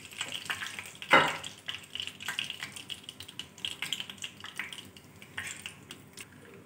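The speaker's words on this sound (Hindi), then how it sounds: "अब मैं बाकी के कबाब भी इसी तरह फ्राई कर लूँगी।" Chapli kebabs frying in oil with a soft, uneven crackle, broken by scattered clinks of a utensil against the pan and one sharper clatter near the start.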